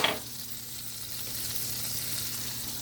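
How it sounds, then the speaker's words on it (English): Butter bubbles and sizzles in a hot pan, a steady close hiss after a brief knock at the start. "So what I have going on here is some butter, and just bringing it up here nice and bubbly."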